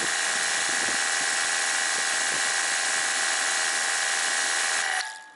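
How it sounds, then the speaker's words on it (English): Water from a Kranzle K1322TS pressure washer with a green tip sprays in a loud, continuous hiss over the machine's steady hum for about five seconds, then stops abruptly. "The water spraying out itself is louder than the machine."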